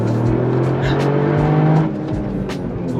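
Fast race car on a damp track, a loud engine drone held steady then cutting off, followed by quieter engine noise and brief tire sounds.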